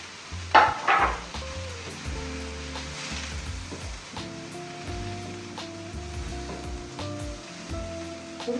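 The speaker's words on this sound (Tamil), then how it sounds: "இது ஒரு 2 மினிட்ஸ் வதக்கிட்டு அதுக்கப்புறம் இந்த வெஜிடபிள்ஸ்லாம் சேர்த்துக்கலாம்." Vegetables and mushrooms sautéing in a pan, a steady close sizzle with a few stirring scrapes near the start, continuing evenly under a background musical tone.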